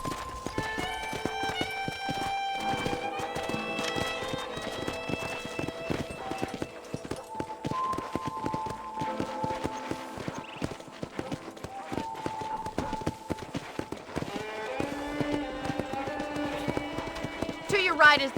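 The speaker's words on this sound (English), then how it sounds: "let's see if you can still ride a horse" Hooves of a horse ridden in the video game Red Dead Redemption clop rapidly and evenly throughout, close and continuous, under a bed of sustained musical tones and a few brief game sounds.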